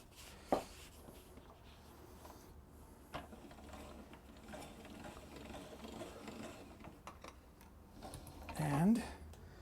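Hand-cranked pasta machine cutting fresh dough into fettuccine, a faint, steady ratcheting and clicking of gears near the microphone, with a few louder knocks and a short burst of talk near the end.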